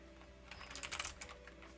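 Fast clicking keystrokes tap out on a computer keyboard while someone codes in Go with vim, a quiet close burst of rapid typing that swells in the middle, with no talking.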